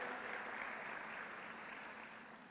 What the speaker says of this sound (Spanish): te damos la bienvenida con este fuerte aplauso